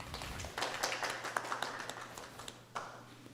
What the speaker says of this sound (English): But that wasn't a very nice applause